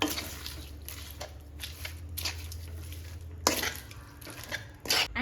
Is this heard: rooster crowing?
no